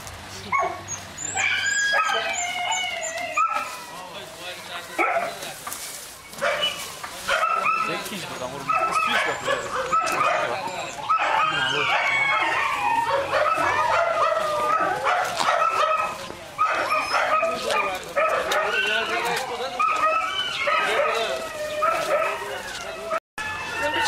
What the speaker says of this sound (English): This was the dog in the picture.